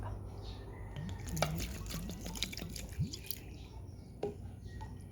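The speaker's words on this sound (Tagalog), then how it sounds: "lagyan ko ito minagre na tuba" Coconut palm vinegar is poured over fish for adobo, giving a quiet run of wet drips and gurgling splashes at close range, followed by a faint clink.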